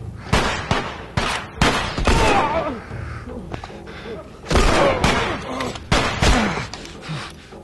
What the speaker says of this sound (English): Ooh, a machine gun.